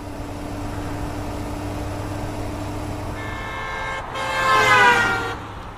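A car passes on a road in a Gacha Club animated story, its steady engine drone swelling as the horn honks loudly near the end, close and alone without talk.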